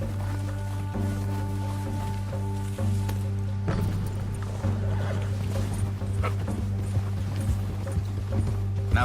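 Rhythmic hoofbeats of a galloping horse in Red Dead Redemption 2, steady clip-clop over a constant low drone and game ambience, with a brief scuffle partway through.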